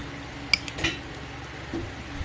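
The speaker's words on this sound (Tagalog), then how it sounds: "Haluin natin yung pipino." A utensil mixes cucumber into raw fish kinilaw made with tanigue in a bowl, giving a sharp clink against the dish followed by a few softer scrapes and taps, close and brief.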